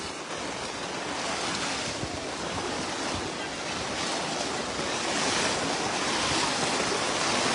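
Strong flood water current rushing through a barangay in Lemery, Batangas, a dense, continuous loud roar with wind buffeting the microphone, steady throughout with no clear voices.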